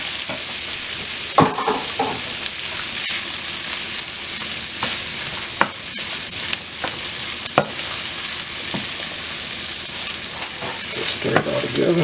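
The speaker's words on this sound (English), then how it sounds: "Stir it all together." Corned beef hash frying in a buttered pan while a utensil stirs and smashes it down, steady close sizzling with scattered scrapes and clacks against the pan throughout, no talking.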